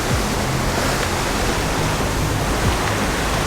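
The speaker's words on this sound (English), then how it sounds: "There's quite a big swell running today, and it's still high tide" Big swell breaking at high tide against a rocky shore, a loud, continuous wash of surf and churning water with no talk.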